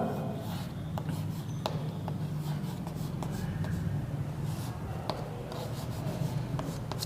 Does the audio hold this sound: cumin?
no